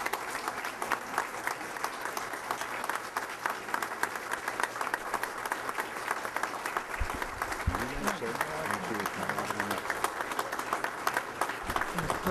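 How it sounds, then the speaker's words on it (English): An audience applauds an award presentation of a plaque and medallion at a Kiwanis gathering, with dense, continuous clapping throughout and a voice briefly speaking partway through. "Now you can applaud."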